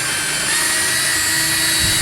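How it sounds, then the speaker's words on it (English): Electric drill boring a pilot hole through a wooden arbor slat, a steady high whine running close and unbroken for a couple of seconds. "I'll pre-drill the hole all the way through the small bit, drill bit all the way through"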